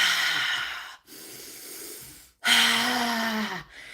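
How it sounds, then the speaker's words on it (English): Slow breaths drawn in through the nose during a guided relaxation exercise, two long airy inhales a couple of seconds each separated by brief pauses, close and clear with no talking. "start breathing now in through your nose"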